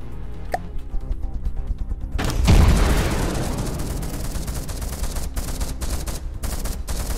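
Missile launchers firing in the naval combat game From the Depths: a heavy launch blast rolls into a long rumbling roar, followed by rapid crackling bursts of gunfire, loud and close.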